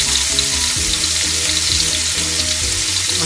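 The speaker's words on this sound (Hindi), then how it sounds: "और जब मटर अच्छे से फ्राई हो रहे हैं" Green peas fry in a pan of oil for green poha, giving a loud, steady sizzle with no pauses and low rhythmic scraping or stirring knocks underneath. No voices are present.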